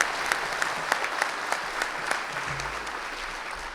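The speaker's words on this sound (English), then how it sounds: "let's give them a round of applause, please, for the staff of the Texas AFL" Convention delegates applaud the staff of the Texas AFL, a steady patter of many hands with a few sharper nearby claps standing out, continuing evenly throughout.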